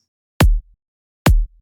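Two short, punchy kick drum hits from a sample pack, each a deep thump with a brief low tail, evenly spaced and alone in silence.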